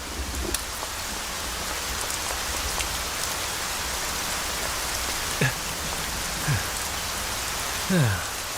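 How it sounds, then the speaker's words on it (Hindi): Steady rain falls in a broad hiss throughout, with a few faint distant voices and brief squeaky sounds rising above it near the end. "बारिश को भी अभी आना था।"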